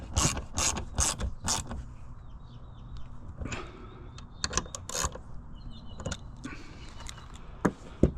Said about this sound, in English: I'm going to use my 3/8 ratchet and my extension just to give it a little, just to make sure we're good and tight